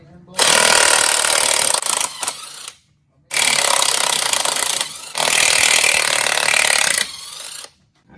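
Impact gun zipping off the 19 mm wheel bearing bolts on a YJ/TJ Jeep Wrangler front hub, loud close rattling bursts of about two seconds each, three runs separated by short pauses.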